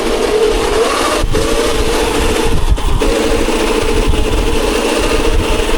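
A motorcycle engine runs steadily and loudly during wheelie practice, with a sustained mid-low drone and slight surges as the throttle is opened, heard close up over constant wind noise.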